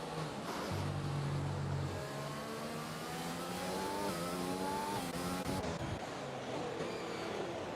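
Race car engine revving and shifting through gears up close, with rising harmonic whine, from the safety car in the F1 2020 video game at the Netherlands Zandvoort circuit, loud and continuous.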